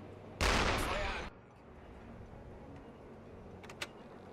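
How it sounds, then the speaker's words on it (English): A gunshot burst echoes across the water in the UBOAT naval game, a loud roaring blast lasting about a second, followed by quiet ambience and a couple of faint sharp cracks further off. "Surprised these guys aren't turning around at the sounds of gunshots across the water."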